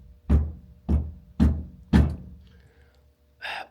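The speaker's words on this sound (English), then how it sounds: "that's just me banging my head" Four dull, heavy thumps of a head knocking against a Jaguar MKII car during reassembly, evenly spaced about half a second apart and close up, followed by a brief muffled grunt.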